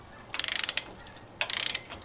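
A hand ratchet clicks rapidly while tightening the transmission plug on a VW Beetle during a service, two quick bursts of sharp, close metallic ticking with a pause between them.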